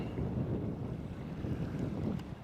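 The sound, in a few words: wind on the coast while sea kayaking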